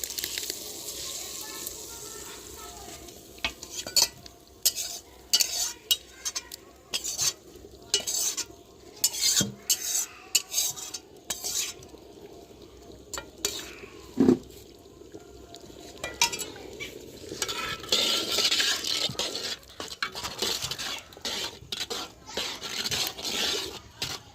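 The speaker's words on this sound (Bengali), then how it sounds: "এবার হাঁড়ির মধ্যে আমি মশলাটা দিয়ে দিচ্ছি" Spices go into a pot of cooking khichuri and are stirred, with a spoon scraping and clinking against the pot in uneven bursts over a soft sizzle, close by and with a voice now and then.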